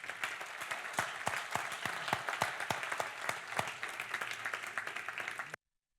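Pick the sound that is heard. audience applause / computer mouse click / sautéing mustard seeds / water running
audience applause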